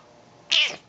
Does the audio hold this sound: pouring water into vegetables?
no